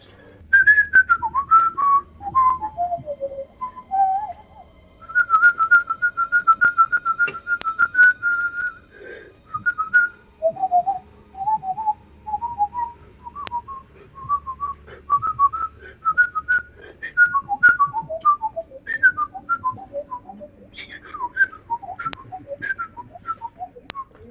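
A person whistles the melody of a jazz piano solo, alone and close, with quick, intricate phrases that rise and fall over about twenty seconds. A faint game soundtrack hums underneath.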